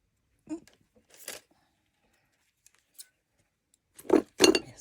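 Scissors snipping thread at a craft table: a few short, quiet metallic snips and clicks spaced apart, with louder handling clatter near the end.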